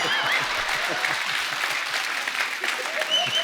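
A crowd claps continuously and steadily throughout, a dense wash of applause heard from within the audience.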